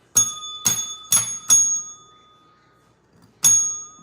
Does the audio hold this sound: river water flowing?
no